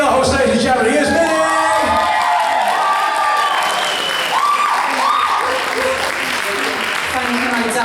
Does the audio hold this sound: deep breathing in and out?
no